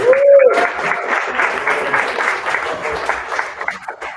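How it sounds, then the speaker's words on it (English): A round of applause from a showcase audience, steady dense clapping across the whole span with a brief voice or whistle at the very start. "Brother Silas, give her a round of applause"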